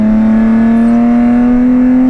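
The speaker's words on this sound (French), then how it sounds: "Je viens d'appuyer sur le petit bouton magique, le Open, et on voit tout de suite la différence." Alfa Romeo 147 GTA with its exhaust valves opened, a loud, close, steady engine drone rising slightly in pitch, with no talk.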